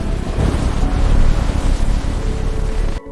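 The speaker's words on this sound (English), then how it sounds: "20-foot waves pound the hull." Twenty-foot storm waves pound the hull of an Alaskan king crab boat, a loud, continuous roaring wash of water and wind that cuts off abruptly just before the end.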